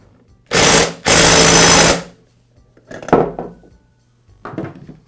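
An impact wrench tightens the clutch on a Poulan chainsaw with two loud, rattling bursts close by, followed by a few quieter metallic clinks and handling noises.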